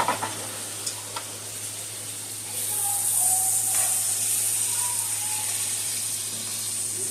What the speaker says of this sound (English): add a teaspoon of garlic, chopped garlic into the pan